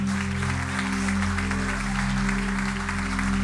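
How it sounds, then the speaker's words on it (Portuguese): Church audience applauding at an intercession seminar, a steady wash of clapping held throughout under a strong low musical drone from instruments, no break in the sound. "Você pode aplaudir o Senhor."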